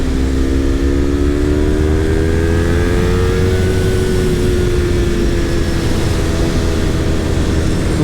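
Motorcycle with a full exhaust system and baffle left in, its engine running loud and close with a steady drone that slowly rises and eases in pitch.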